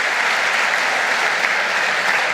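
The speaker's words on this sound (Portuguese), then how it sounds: "Vamos dar uma salva de palmas por essa igreja tão especial." A church congregation applauds together for their church, a dense and steady wash of clapping with no voices, loud and unbroken for the whole stretch.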